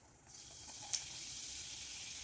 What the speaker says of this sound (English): Here the oil is being heated. I'm going in with some curry powder.